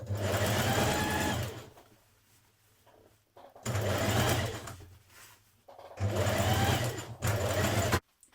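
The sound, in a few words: sewing machine stay-stitching seams to a dress lining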